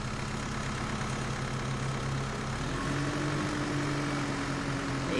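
A steady tractor engine in a video game idles and drones continuously, its low hum shifting pitch partway through as if revving slightly, with no talking.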